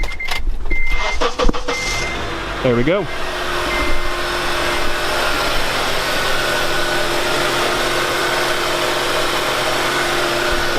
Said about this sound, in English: we're going to start up the Element right now, see if it fires up with this new battery